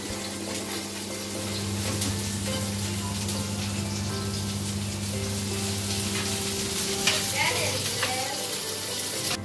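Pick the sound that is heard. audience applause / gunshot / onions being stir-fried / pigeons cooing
onions being stir-fried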